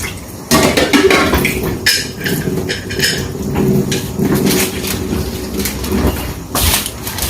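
A metal lid set back onto a cooking pot of sinigang with eggplant, sharp clanks and scraping clatters in a home kitchen, close and loud, with no talk.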